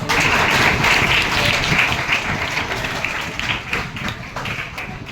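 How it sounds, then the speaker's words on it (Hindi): Loud, dense applause from a crowd gathered for a Swachh Bharat street play in Haryana, a steady wash of clapping that holds for the whole stretch and eases slightly toward the end. "अरे इनके लिए जोरदार तालियां।"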